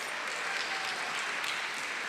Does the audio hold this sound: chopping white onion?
no